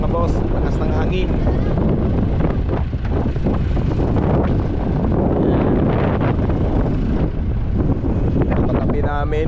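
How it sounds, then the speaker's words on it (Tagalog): Strong seaside wind roars steadily across the microphone near fishing nets and a boat, a loud, unbroken rush with a voice talking beneath it. "Lakas ng hangin ngayon mga boss."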